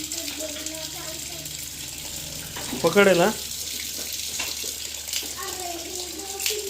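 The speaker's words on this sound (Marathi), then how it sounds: "हे बघा तुम्ही कसं हे पूर्ण पांढरं पांढरं पाणी निघतं बाहेर" Water runs from the outlet of an Aquaguard pre-filter during a filter change, a steady close trickle with a brief louder gurgle partway through, while a person talks over it.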